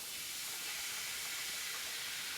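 Vegetables sauté in olive oil in a pot, giving a steady, soft sizzling hiss that stays even throughout without talk.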